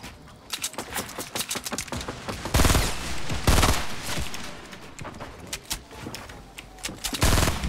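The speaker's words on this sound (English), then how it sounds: "Where the heck are those shots coming from?" Fortnite Battle Royale gunfire, with bursts of rapid automatic shots and heavier blasts from a double-barrel shotgun, loud and close, coming in irregular volleys with short gaps between them.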